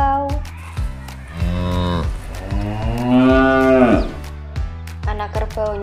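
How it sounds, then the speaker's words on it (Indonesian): Several loud, close moos from a calf toy sound in quick succession, some short and some drawn out, with a longer bellow in the middle. Brief clicks come between the calls. "Wah, ada anak sapi teman-teman."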